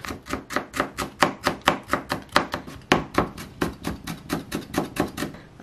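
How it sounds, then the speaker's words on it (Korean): A knife finely minces carrot and cucumber on a cutting board for a potato sandwich filling, with rapid, evenly spaced chops of about four per second, close and clear, and no talking. "곱게 다져서 하겠습니다."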